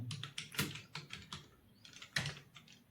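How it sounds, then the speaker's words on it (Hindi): Close, light clicking of fingers typing on a computer keyboard during typing-speed practice, coming in short irregular bursts of keystrokes with brief pauses between. "देखो अब मैं गार्ड टाइप करता हूं"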